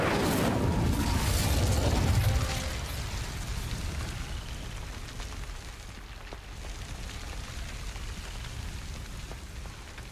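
Incendio fire spell cast in Hogwarts Legacy, a rushing fiery burst that roars loudly for about two seconds, then fades into a steady crackling hiss that slowly softens.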